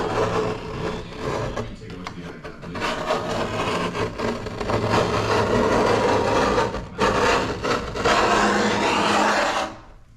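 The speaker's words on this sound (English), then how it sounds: "Brought a putty knife today to try to remove this varnish" A putty knife scrapes old varnish off a wooden utility-room cabinet in a steady, close, gritty rasp that runs almost without pause, with one brief break near the end.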